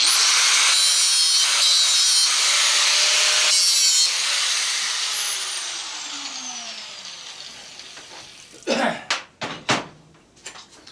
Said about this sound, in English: Now what you do, hit it with a grinder.